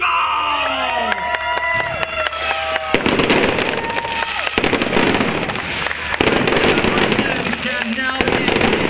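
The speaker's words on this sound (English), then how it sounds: "Our junior drivers getting treated to a firework practice over the circuit." Fireworks burst over the Circuito Internazionale at Sarno during a junior karting championship event, a dense run of crackles and pops with whistling rising trails at the start, loud and continuous alongside crowd noise.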